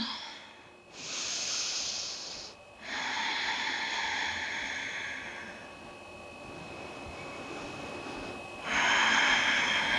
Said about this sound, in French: Prenez encore 3 respirations.